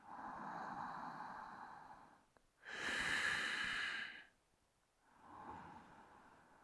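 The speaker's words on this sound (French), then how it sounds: "Pour 3 respirations." Slow, audible breaths during a yoga exercise: a long inhale, a brief pause, then a strong full exhale, followed by another softer breath, close to the listener and without talk.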